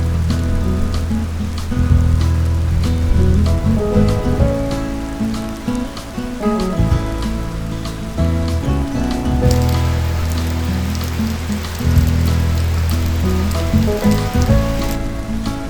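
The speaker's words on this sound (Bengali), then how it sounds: "তারপর হঠাৎ করেই বৃষ্টি নেমে এলো।" Monsoon rain pours steadily over Darjeeling, a continuous hiss of drops on surfaces running throughout, partly covered by loud music playing over it.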